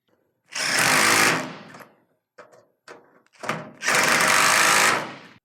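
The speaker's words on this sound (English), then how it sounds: "tighten the first one, the second one, then back to the first one." A power tool drives screws into metal roof clamps on an S-5 ColorGard snow-retention system: two loud, sustained whirring bursts with a few short clunks and taps between them, close up and with no talk.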